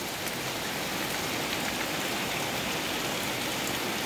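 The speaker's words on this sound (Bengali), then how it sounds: "টানা কয়েকদিন অসহ্য ভ্যাপসা গরমের পরে অবশেষে স্বস্তির" Steady rain falls in a dense, even patter, a constant wash of drops with no pauses and no voices.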